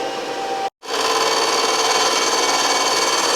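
A machine cuts into a part clamped on a jig normally used for piston valve cutouts, giving a steady, broad whirring grind that breaks off briefly into a short gap and then resumes at full strength.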